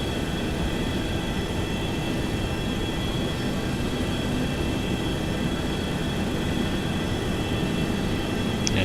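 Twin-engine FlyJSim 737-200 jet in the X-Plane 11 flight simulator, number 1 engine starting while taxiing at KSFO: a steady, dense broadband roar and rumble holding at constant loudness throughout, with a faint high whine near the end.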